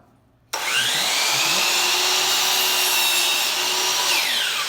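Miter saw cutting wood in a community woodworking shop: motor whines up abruptly after a brief quiet, then a loud steady buzzing cut holds for about four seconds before the pitch begins to wind down, no talking.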